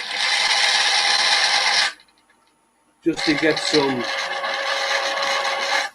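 Sandpaper rubbing over a spinning 12-inch ash wood bowl on a lathe, a steady broad rasping hiss that breaks off briefly, then resumes with someone talking over it.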